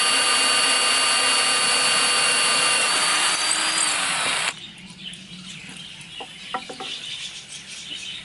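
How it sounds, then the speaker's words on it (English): An electric drill bores holes in wood for traditional Japanese geta shoes, giving a loud, steady whine for about four seconds before it cuts off, leaving quieter ambient sounds with faint clucking in the background. "So I'm going to drill the holes now"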